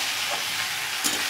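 Cauliflower with turmeric and salt sautés in a pan, giving a steady close sizzle with a couple of brief stirring scrapes, no voices.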